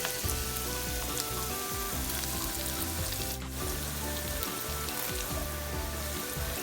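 Shallots and curry leaves frying in coconut oil in a small pan, a steady crackling sizzle that runs evenly throughout with dense spitting pops and no voices.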